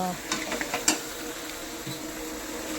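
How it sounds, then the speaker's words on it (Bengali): Goat mutton, already pressure-cooked, is being stir-fried in a pan with a steady close sizzle and a few quick scraping and clinking strokes from the spatula early on. "এখানে দেখো মাংস কষিয়ে নিচ্ছি, প্রায় কষানো আমার হয়ে গেছে"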